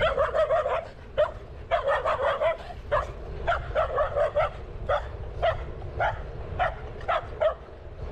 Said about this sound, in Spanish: Parece que el perrito está enojado porque pasó con la bicicleta.